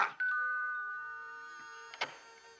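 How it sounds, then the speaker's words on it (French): A doorbell chimes with a sustained two-tone ring that fades slowly, then a brief click or knock near the end. "Ce qu'elle peut m'énerver, cette sonnette de malheur."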